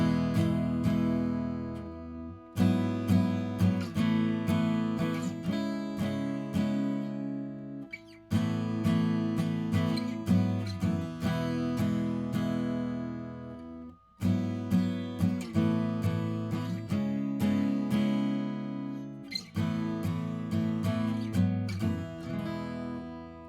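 A guitar plays the repeating phrase of a song as four sustained strummed passages in a cycle, with short breaks between them, loud and close, with no voice.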